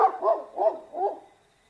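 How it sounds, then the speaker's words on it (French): A dog barks in three or four quick, close, loud yaps in a row, fading toward the end with nothing else behind it. "Le chien s'élança alors vers lui, en aboyant de toutes ses forces"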